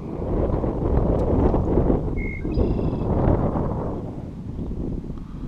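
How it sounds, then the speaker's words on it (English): Strong wind buffets the microphone on open water from a two-person canoe while panfishing, a loud continuous low rumble and roar with a brief faint electronic beep midway. "the wind picks up so much"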